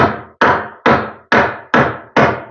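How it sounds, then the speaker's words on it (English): Five sharp hammer taps at an even rhythm knock a wooden cabinet unit into place, each strike loud and close with a brief woody decay. "Maybe I can tap it with a hammer there"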